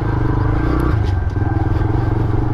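A motorcycle riding over a rough, broken road, its engine loud and close with a steady pulsing throb and faint rattles and clatter from the bumpy surface.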